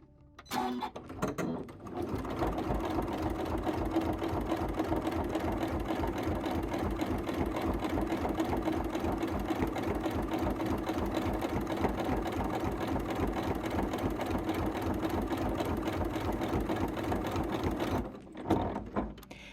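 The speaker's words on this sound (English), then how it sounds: "here's an example of sewing with lots of layers. So here is it with 16 layers of quilting cotton" Sewing machine with dual feed stitching slowly through 16 layers of quilting cotton, a steady rhythmic mechanical chugging that runs continuously for most of the time before stopping.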